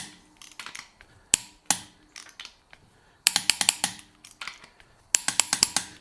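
A torque wrench ratchets and clicks while tightening the center head bolts on a 2009 Subaru Forester toward 85 foot-pounds, with quick bursts of crisp metallic clicks separated by brief pauses.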